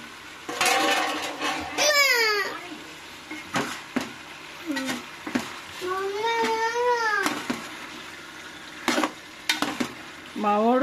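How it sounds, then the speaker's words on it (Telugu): Food fries and sizzles steadily in a pan while it is stirred, heard close and fairly quiet, with a child crying and people talking in short bursts over it. "ఇప్పుడు కలుపుదామండి"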